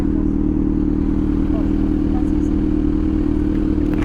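A Kawasaki Z900 motorcycle engine runs with a steady, rumbling drone, close and loud, holding an even throb throughout with no clear revving.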